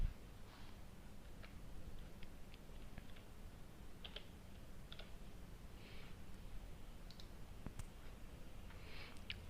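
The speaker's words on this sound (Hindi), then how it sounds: "तो चलिए क्लिक कर देते हैं और कैप्चा फिल कर देते हैं" Scattered, faint clicks of a computer mouse, apparently on an ASUS laptop setup, sound while a captcha is being filled in. The sharp, irregular taps sit over a steady background hiss.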